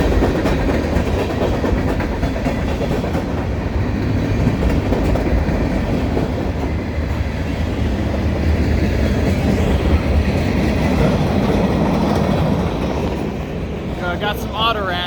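A Norfolk Southern freight train with auto racks rolls past close by at speed, a continuous loud roar of rail noise and clattering wagons. A voice talks over it.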